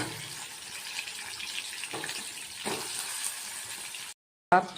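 Steady sizzling of chilli frying in a pan, with a few clinks of stirring, then a brief silence and a small knock.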